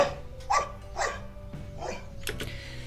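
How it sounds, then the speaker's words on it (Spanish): A dog gives soft, warm request barks mixed with whimpering sounds while interacting with a puppy. Four or five short barks come at a steady pace, close and moderately loud, with no talk. "Aquí vemos unos ladridos que son cálidos"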